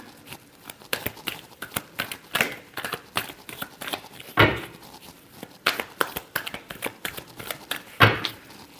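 Tarot cards being shuffled by hand in a series of rapid riffling bursts, with a couple of sharper card slaps standing out, close and fairly quiet.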